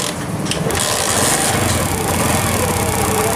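Honda CD70 motorbike engine running at a steady idle after being started, a loud continuous mechanical chugging with a dense rattling rumble throughout, heard close up without talk.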